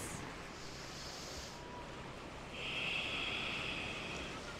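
Ocean waves wash onto a beach in a steady, fairly close broadband rush that swells louder in its second half, with wind noise mixed in and no talking.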